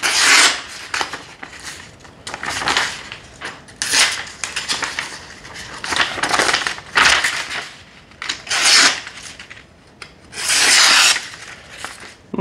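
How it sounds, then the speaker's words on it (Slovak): A kitchen knife is sharpened on a whetstone in repeated rasping strokes, a dozen or so uneven scrapes of varying length and loudness, close up with no talking. "Nož viete naostriť, ale už podľa zvuku počujete, že tá zrnitosť"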